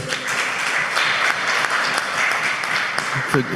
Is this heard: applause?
yes